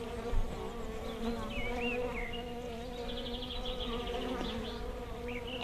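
Honey bees buzz steadily and closely around a beekeeper at an open hive in Ireland, a dense droning hum with individual bees whining past near the ear, no talking.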